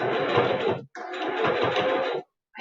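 A sewing machine runs in two loud bursts of rapid mechanical stitching separated by a brief stop, then starts up again at the very end.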